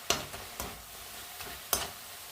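Onion leaves, tomato and spinach leaves frying in a pan, a soft steady sizzle broken by a few sharp stirring scrapes and clicks, close and fairly quiet.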